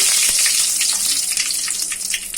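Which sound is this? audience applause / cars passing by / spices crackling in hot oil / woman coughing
spices crackling in hot oil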